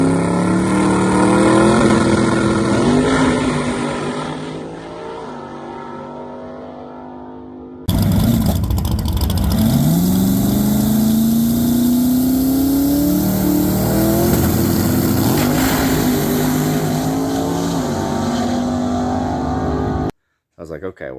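Chevrolet Nova no prep drag race car accelerating hard at the track, a loud engine roar rising in pitch through the run with a brief drop midway, under a speaking voice.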